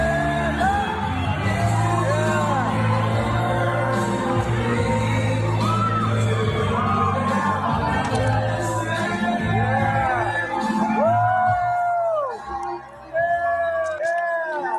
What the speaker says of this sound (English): I don't know why you're clapping for this man.